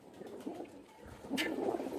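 Oman Teddy pigeons coo in a low, murmuring stream close by, rising slightly in loudness toward the end, with a faint flutter or rustle partway through.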